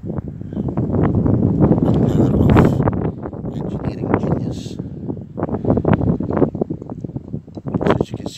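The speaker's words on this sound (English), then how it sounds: "You can see it's quite windy" Strong gusting wind by the Firth of Forth near the Queensferry Crossing buffets the microphone in heavy, uneven roars that rise and fall throughout.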